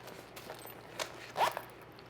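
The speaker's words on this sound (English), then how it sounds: "And you can zip everything together." A zipper is drawn closed on a fold-up travel makeup brush case, giving a few short, soft rasping pulls close by, quiet and with no talking.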